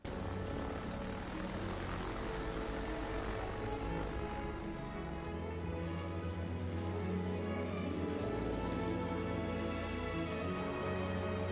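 A small propeller airplane's engine in a scene from the Dinotopia film, as a father and his sons board the plane at an airport: a loud, steady, continuous drone that holds evenly throughout with no talk.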